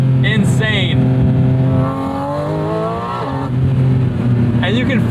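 A Porsche 718 Spyder with an automatic transmission revs hard and snaps through quick gear shifts, its engine note dropping and climbing again between loud, sustained pulls, with a voice talking over it.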